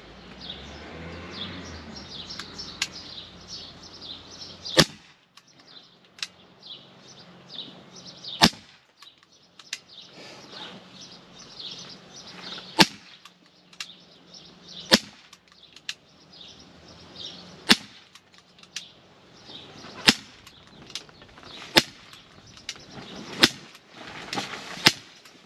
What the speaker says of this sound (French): Et on va essayer de tirer à bras francs.